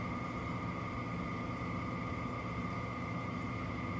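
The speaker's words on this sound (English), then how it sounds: "Might need to turn our washing machine off here in a minute." Domestic washing machine running steadily in the background of a kitchen, a continuous broadband hum with faint tonal whine, unchanging throughout and with no talk over it.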